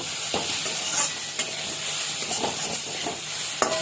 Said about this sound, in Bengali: ভালো মতো নেড়ে চেড়ে নিলাম।